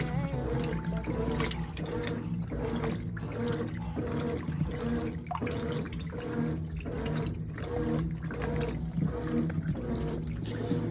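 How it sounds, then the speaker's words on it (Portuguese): A Brastemp 18 kg washing machine churns water in a steady, rhythmic agitation, sloshing back and forth about every half second for several seconds, close and continuous with no talking. "É uma excelente lavadora, lava muito bem."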